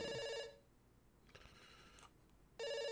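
A telephone rings in the video game Dr. Langeskov, giving a loud, close electronic bell trill, then pausing for about two seconds before the next ring starts.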